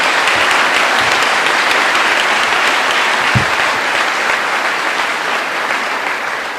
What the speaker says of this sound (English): Let's give our teachers and staff a round of applause.